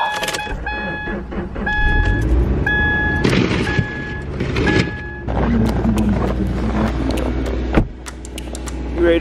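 A car is started on a snowy day. A string of short electronic beeps is followed by the engine catching and settling into a low, steady rumble, close by, with no one speaking.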